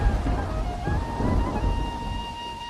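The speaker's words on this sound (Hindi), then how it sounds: "जल्दी चलते हैं, बारिश तेज हो रही है।" Heavy rain pours steadily with low rumbling thunder rolling underneath, a dense continuous wash of noise at moderate loudness with no voices.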